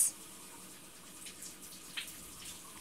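Water runs steadily from a tap during a cat's bath, a faint, even hiss with a few small splashes.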